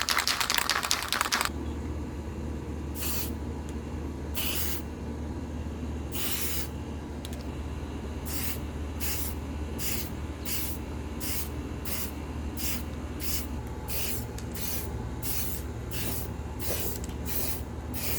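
An aerosol spray paint can coats an arcade stick, starting with one long hiss, then repeated short bursts that come faster and more evenly toward the end, close and fairly loud.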